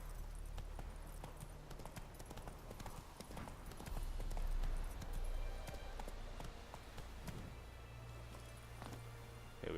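Roach the horse galloping in The Witcher 3, a steady rhythmic clip-clop of hooves running continuously, fairly faint, with a slight swell in the middle and no talk.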